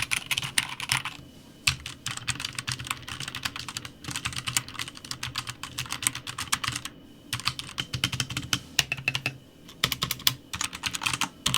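Rapid clacking of a Das Keyboard mechanical keyboard, bursts of keystrokes with short pauses between, close and crisp with no talking.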